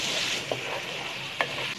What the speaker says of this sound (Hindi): इस तरह से हम इसे मुसलसल हिलाते रहेंगे, चम्मच को चलाते रहेंगे और तकरीबन हम इसे 15 मिनट भूनेंगे